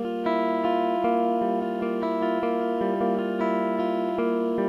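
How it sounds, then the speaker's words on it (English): A sustained electric guitar plays rhythmic chords with ringing overtones, steady and fairly loud throughout. "In the first track, I have a guitar track."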